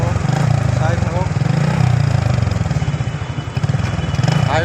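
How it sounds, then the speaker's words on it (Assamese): Motorbike ridden along a highway, its engine a steady close drone with a rhythmic pulsing throb throughout, wind and road noise mixed in. "আজি হাই ৰোডত বাইক চলাই যাম"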